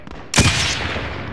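Call of Duty: Modern Warfare gunfire erupts in a sudden loud burst of rapid shots that rings out and decays over the next second.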